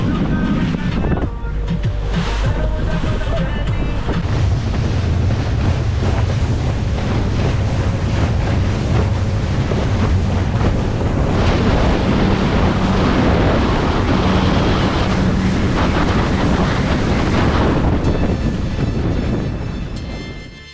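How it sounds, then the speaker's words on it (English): A boat cruises at about 35 miles an hour across a choppy bay, its wind-driven chop 1 to 2 feet high, making a loud continuous rush of wind buffeting, hull slapping and engine roar for the whole stretch. "we're cruising about 35 miles an hour, and the wind is causing the chop to be 1 to 2 feet"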